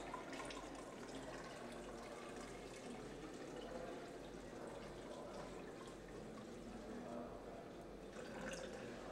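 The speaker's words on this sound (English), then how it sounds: "So if I pour out 780 mils, that'll leave me with 3 liters." Water pours out of a 3.78-liter jug in a steady, quiet splashing stream that runs continuously without pause.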